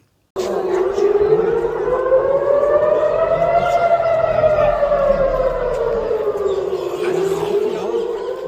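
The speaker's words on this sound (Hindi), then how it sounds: "देखिए तेल अवीव के आसमान पर सायरन्स किस तरह से बज रहे थे।" An air raid civil defense siren sounds loud and sustained over Tel Aviv, its wailing tone slowly rising and falling, with faint crowd chatter beneath.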